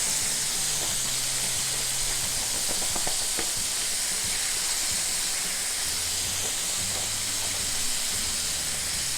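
Chicken wings fry in a large pan with a steady, loud sizzle and hiss, scattered crackles and pops rising above it, no voices.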